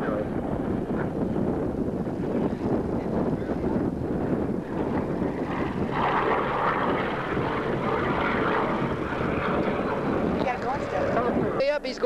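A Hawker Sea Fury propeller aircraft performs aerobatics at an airshow at El Mirage, its engine drone steady and loud with wind buffeting, while an announcer's voice runs over it throughout.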